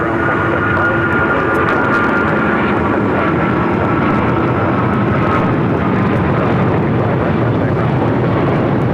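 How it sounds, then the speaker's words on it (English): An American Airlines Boeing 777 roars down runway 25 right at LAX on takeoff, a loud continuous jet-engine rumble and thunder that fills the whole stretch without a break. "We got that American 777 now taking off 25 right."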